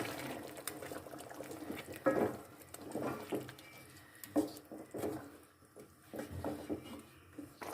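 Spinach being stirred into a pot of meat curry: soft wet squelches and splashes come in irregular bursts, close and fairly quiet, with no voices.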